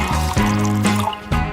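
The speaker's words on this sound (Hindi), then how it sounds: "अब हमें तरबूज का जूस एक बोतल में डालना है।" Watermelon juice blended with its pulp is poured into a bottle, giving a steady close liquid gush with brief drips and splashes, heard alone without talk.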